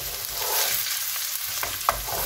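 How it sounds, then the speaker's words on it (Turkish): Steady sizzling of chopped dry onion frying in hot oil, with occasional scrapes and stirring clinks from a utensil. "Ve yağ ısındıktan sonra yemeklik doğradığım bir tane kuru soğanı ekliyorum."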